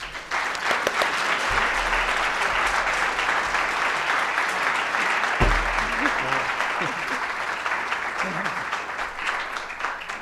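An audience applauds warmly to welcome Tod Williams, sustained dense clapping that holds steady for about ten seconds, with a few voices faintly audible underneath.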